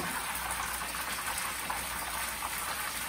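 Tilapia fillets fry in a pan with a steady, dense sizzle that holds at an even level throughout, close and with nobody talking.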